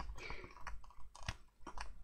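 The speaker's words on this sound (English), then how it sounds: "So I just need to poke a few more holes in to make it a little bit bigger." A biro pokes extra holes through the cover of a handmade A5 ring binder for a Christmas album, giving a run of crisp, close clicks and taps that come in short irregular bursts.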